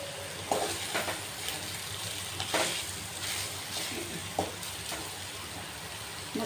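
Mushrooms sizzle in a pan as they fry dry, a steady close crackle with occasional scraping stirs and clinks from the spoon.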